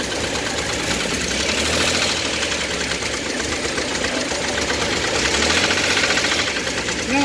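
A 1963 Chevrolet Corvair engine idles steadily during a valve adjustment, with a continuous close rumble, a busy rapid clatter and some faint metallic ticking throughout.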